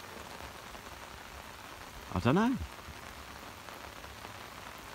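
Steady rain falls on a river during a fishing trip, an even hiss of drops throughout, with someone speaking a few words briefly in the middle.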